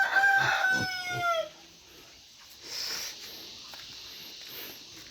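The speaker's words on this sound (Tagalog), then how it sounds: "Laki ng tandang ni Jojo." A rooster crows once, loud and close, then the air falls to quiet outdoor background on a farm.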